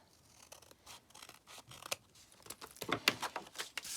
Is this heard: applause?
no